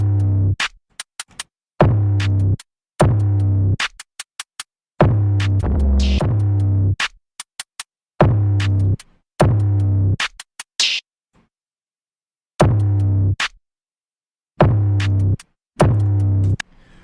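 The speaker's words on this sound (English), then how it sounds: "So all together the drums sound like this in the main section." A punchy drum pattern plays in repeated bursts separated by silent gaps, with deep kick hits and sharp snare-like strikes.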